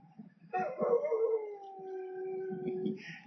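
A dog howls in a single long, drawn-out wail that starts loud and slowly tapers off, fairly close outdoors in an open field.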